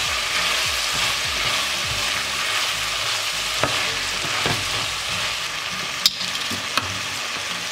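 Lentil soup ingredients with potatoes sizzle and fry in a pot while being stirred, a steady loud frying hiss with a few scraping clicks and knocks from the spoon.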